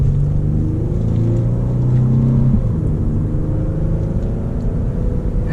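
A Lexus IS350 F-Sport AWD sports sedan accelerating under power, its engine a steady, loud rumbling drone with a rising tone that shifts partway through, heard from inside the car with no talking.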